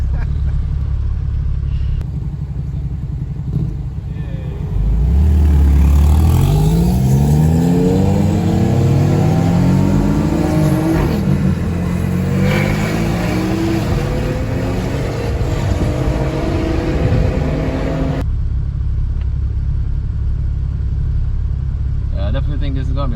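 A 700 hp Porsche 911 Turbo S pulls hard down a street, its engine note climbing through the gears in rising, roaring sweeps before cutting back to a low, steady rumble.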